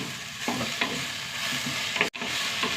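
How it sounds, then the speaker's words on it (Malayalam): Tomatoes sautéing in a pan, a steady close sizzle with a few stirring scrapes and one brief clatter, no voices. "തക്കാളി തക്കാളി ഒന്ന് വഴണ്ട് വരട്ടെ"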